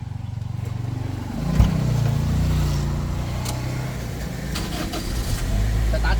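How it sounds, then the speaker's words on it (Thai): A Toyota Soluna's small engine idles steadily and evenly, a low continuous rumble with no revving, heard up close. "เดี๋ยวเรามาดูในส่วนของเครื่องยนต์แล้วฟังเสียงเครื่องยนต์กันนะครับ"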